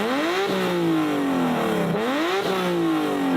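A modified car engine revs repeatedly at a rev battle, its pitch climbing and falling in two long sweeping pulls, loud and close with no talking.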